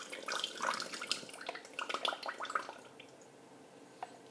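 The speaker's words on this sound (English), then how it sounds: "But now what you're going to do is pour it into the mixing cup" Lemon juice is poured into a mixing cup while making lemonade: close, trickling splashes with bubbly gurgles that fade toward the end.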